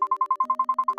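A phone ringtone in the video game Lovers Enigma chirps in a fast, even electronic pulse, about ten short beeps in a second over a steady tone, clear and alone.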